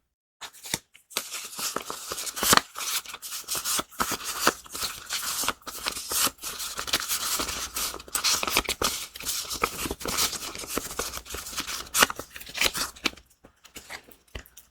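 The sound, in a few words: shuffling and drawing tarot cards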